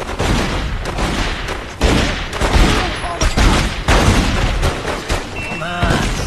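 Gunfire from The Godfather II video game, a dense burst of loud shots and booms across the whole stretch, mixed with game dialogue and shouting.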